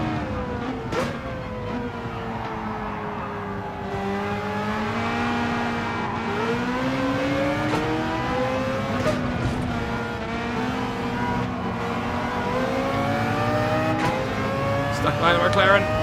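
Race cars in Gran Turismo 7 run as one continuous engine drone, with rising and falling rev pitch through gear changes, under steady talk. Faint tyre noise and a brief burst of higher whine come near the end.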